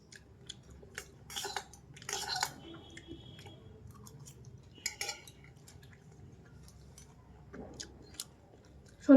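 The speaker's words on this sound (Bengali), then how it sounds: "যাই হোক এখন আমি খেয়ে নিই।" Someone eating homemade chowmein tossed with potato, onion and tomato, with soft chewing and scattered clinks of utensils against a plate at close range, irregular bursts over a quiet background.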